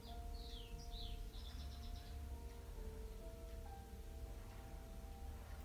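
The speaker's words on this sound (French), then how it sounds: "le chant des oiseaux" Faint birds chirp and trill in the distance during a hypnosis session, with brief high calls early on over a steady hum and soft sustained piano tones.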